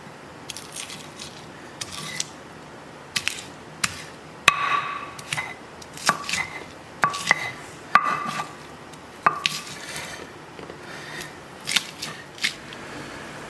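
Spices are ground in a circular motion with a pestle for Indonesian tongseng kambing, making sharp, irregular scraping knocks and clacks against the mortar at close range.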